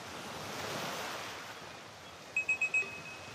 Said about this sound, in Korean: 빗소리, 파도소리.